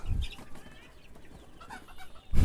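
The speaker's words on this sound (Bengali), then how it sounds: "এই যে দেখছেন ফাহমি মুরগি" Fayoumi chickens in a large rooftop garden cage give a few soft, scattered clucks with loud close handling bumps at the start and end.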